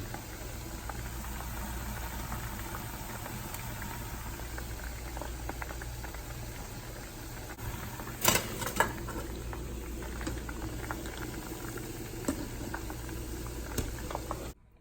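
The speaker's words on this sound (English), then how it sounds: "fry them in here for a couple minutes until they get nice and golden" Shrimp balls deep frying in hot oil, a continuous dense bubbling sizzle held steady throughout with a couple of brief clinks of utensils midway, no voices.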